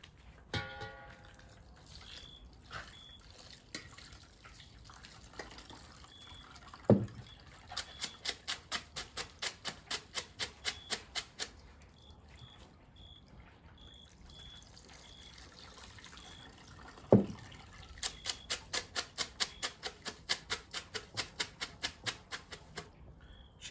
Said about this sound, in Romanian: Clătim cu apă rece.